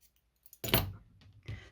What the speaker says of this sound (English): Then you can cut that first strand